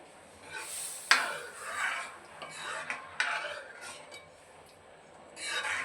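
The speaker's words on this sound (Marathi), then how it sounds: "मिक्स करून घ्यायचा आहे" A spoon stirs dal palak in a metal pot after salt goes in, giving a few clinks against the rim and wet scraping swirls, close and moderately loud, with no talk.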